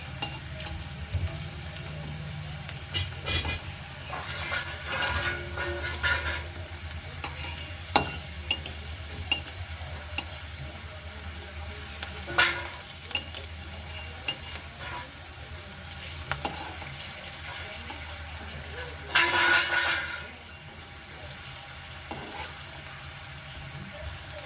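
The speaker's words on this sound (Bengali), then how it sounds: "তো আলুগুলো আমি লাল লাল করে ভাজবো" Potato pieces fry in hot oil with a steady low sizzle, broken by repeated scraping and clinking as a spatula stirs and turns them in the pan, including one louder burst of stirring near the end.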